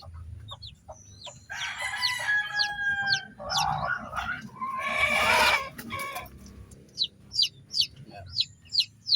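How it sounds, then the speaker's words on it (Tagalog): Newly hatched chicks, nine of them, peeping in quick high bursts, joined midway by louder clucking of adult fowl and a person talking, ending with a clear series of rhythmic chick peeps close by. "Ayan po yung ating mga bagong pisang sisiw, siyam na piraso."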